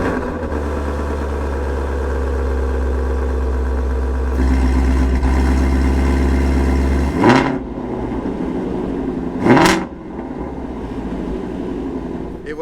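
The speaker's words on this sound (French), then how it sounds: "maintenant c'est le premier redémarrage de cette Shelby GT350" A Shelby GT350 fires up for the first time after electrical repair work, with a steady rumbling idle followed by two sharp throttle blips that rise and fall, close by with no talking.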